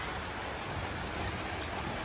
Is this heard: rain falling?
yes